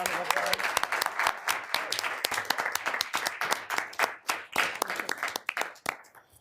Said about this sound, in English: Can we give Dean Delaney a round of applause?